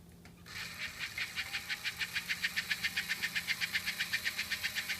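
An American Flyer HO model steam locomotive running forward at about 11 volts, its small motor giving a fast, even chuffing pulse that starts after a brief click and holds steady and close throughout.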